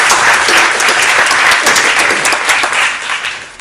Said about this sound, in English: Yeah, give a round of applause.